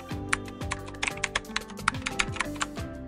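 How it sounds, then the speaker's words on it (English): Rapid typing on a computer keyboard while entering a note, with close, crisp key clicks in an uneven, busy rhythm and no voices. "we can start typing the message or the note over here"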